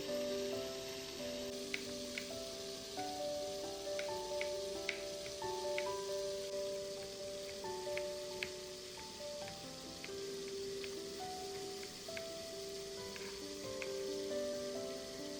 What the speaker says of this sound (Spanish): lo primero que estoy haciendo es sofreír el pollo para que se dore bien por fuera y quede bien jugoso